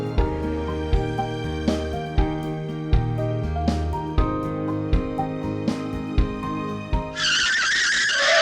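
A car skids with squealing tires at the end, a sudden loud burst of screeching rubber that follows a stretch of dramatic tonal music with rhythmic hits.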